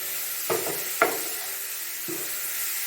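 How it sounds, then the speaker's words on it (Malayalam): Grated beetroot sautéed in ghee for halva, with a spoon scraping the pan three times amid a soft, steady sizzle, close and quiet, with no talking. "കുറച്ചും കൂടെ നെയ്യ് ആഡ് ചെയ്ത് കൊടുക്കാം എന്നിട്ട് ഒന്ന് നന്നായി അത് അതിൻ്റെ പച്ച മണം മാറുന്ന വരെ ഒന്നൊന്ന് വഴറ്റി കൊടുക്കാം"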